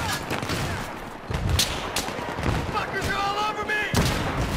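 Gunfire fills a Battlefield 3 multiplayer battle in dense repeated bursts and thuds, loud and close, with someone talking over the shooting.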